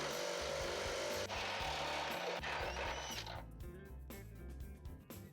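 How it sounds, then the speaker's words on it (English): A drill turns a 1-inch step bit through metal to widen a hole on a Ford Escape's frame for a hitch install, grinding steadily and close, then easing into choppy bursts near the end. "For this, we use a 1-inch step bit."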